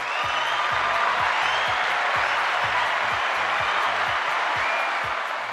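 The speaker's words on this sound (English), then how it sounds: "Everyone, let us give a cheer for Nora Mermaid." A crowd cheers and applauds for Nora Mermaid, a steady, dense wash of clapping and cheering that holds loud for several seconds, with no voices standing out above it.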